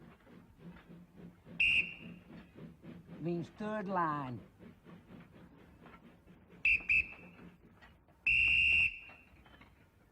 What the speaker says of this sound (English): It's an old North Staffordshire shunter's whistle.